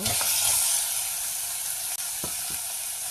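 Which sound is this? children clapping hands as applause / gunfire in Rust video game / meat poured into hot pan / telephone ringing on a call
meat poured into hot pan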